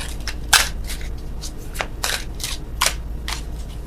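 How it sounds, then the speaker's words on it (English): Tarot cards are shuffled by hand close up in a run of quick, crisp riffling bursts at an uneven rhythm, with no talk. "Oh, worst shuffling in the world."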